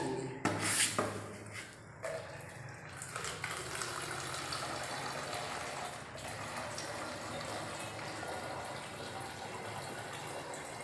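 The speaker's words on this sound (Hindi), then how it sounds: "बॉटल में सबसे पहले पानी भरेंगे" Water pours into a 2-litre plastic bottle being made into a bottle rocket, a steady rushing gush after a few bumps and knocks of handling at the start, close and unbroken, with no one speaking.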